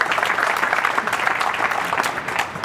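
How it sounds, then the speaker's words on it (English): Audience applause in a hall after a great shot at the 2007 World Pool Championship match between Earl Strickland and Alan Tan, a steady dense clapping that lasts the whole stretch with no gaps. "Well, that applause deserved."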